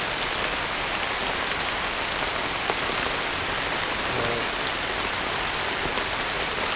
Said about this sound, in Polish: I dzisiaj drugi deszcz.